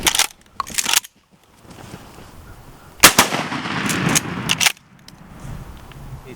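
During a bird hunt, shotguns fire loud, booming blasts, with a cluster of shots near the start and another heavy burst midway, separated by quieter outdoor background and no talk.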